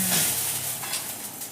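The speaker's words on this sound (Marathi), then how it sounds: "सगळ्यात शेवटी आपण हे धणे आता या कढईमध्ये भाजून घेणार आहोत" Coriander seeds dry-roasting and being stirred in a kadai for a spicy onion-garlic masala: a close, continuous sizzling hiss with light scraping, steady throughout and no voices.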